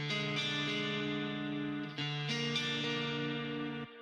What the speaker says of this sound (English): Here's a clean guitar. It sounds really nice.